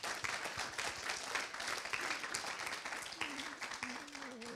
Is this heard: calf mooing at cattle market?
no